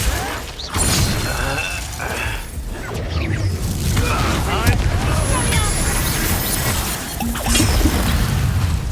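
Glacius freezing spell cast in Hogwarts Legacy, heard as a loud crackling, shattering burst amid battle clatter and mechanical effects. Combat noise continues throughout, with voices from the fight.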